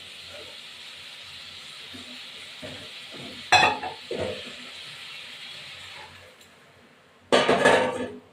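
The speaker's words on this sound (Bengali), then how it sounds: "এবার একটু জল দিয়ে দেবো" Water is poured into a pan of pumpkin and prawns, giving two short bursts of hissing sizzle with clinks of utensils and pan against a steady low cooking hiss.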